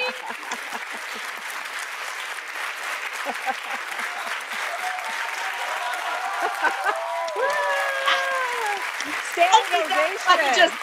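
Applause sound effect played over a video call, a steady wash of clapping and crowd cheer that swells toward the end, with voices talking over it throughout.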